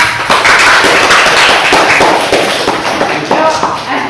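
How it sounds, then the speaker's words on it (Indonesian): A class bursts into applause, with dense, loud clapping from many people that carries on for about four seconds before it thins out. "Tepuk tangan buat kita."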